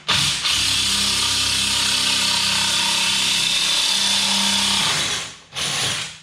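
A power drill runs continuously as the bit cuts a hole through a tile, a loud, sustained whirring grind that dips briefly near the end and then resumes for a moment.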